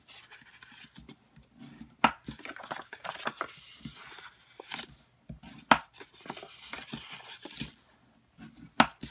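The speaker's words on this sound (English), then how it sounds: "let me go ahead first and fold and burnish these score lines so they'll be easier to see" Paper score lines being folded and burnished for an origami-inspired Easter basket: close, dry rubbing and scraping with a few sharp taps, no talking.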